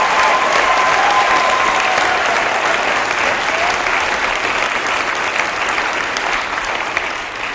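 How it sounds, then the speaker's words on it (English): An audience claps for children after a school show at Pillans Point School, a sustained thick roar of applause, loud and close, fading slightly at the very end. "Let's give all of these kids up here a big round of applause."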